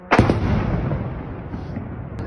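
A drone strike explosion at a factory in Yelets, Lipetsk region, Russia: one sudden loud blast near the start followed by a long rumbling decay, with a faint sharp crack near the end.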